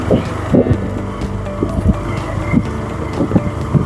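A worker truck carrying oil palm fruit rumbles along a narrow plantation road in an oil palm estate, its engine a steady low drone with repeated thumps and jolts from the rough track, fairly close.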